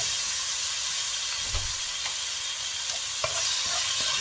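Food being stir-fried in a pan with ground pepper added, giving a steady sizzling hiss with faint scrapes and a brief low thump midway, no voices.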